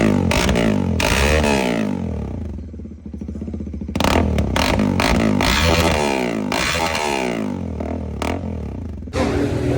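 A Bajaj Pulsar NS400 motorcycle fitted with an Arrow exhaust revs hard up close, loud crackling blips and throaty rises filling the clip, with a brief lull before the engine roars again.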